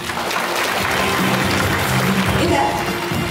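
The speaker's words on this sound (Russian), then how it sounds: "Прошу возвестить этот торжественный момент дружными аплодисментами." An audience at a 2021 utility workers' day award ceremony in Chernushka applauds together, a steady, loud wash of clapping sustained throughout with a low murmur beneath.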